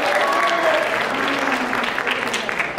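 An audience at a social media and content creation talk gives steady, dense applause, with a voice briefly audible over the clapping.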